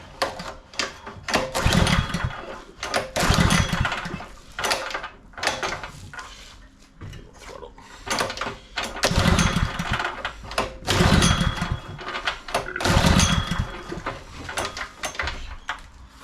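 Honda fire pump engine being pull-started with the choke on: repeated rough cranking bursts and brief sputters of the small engine, several pulls with short pauses between, loud and close with no talking.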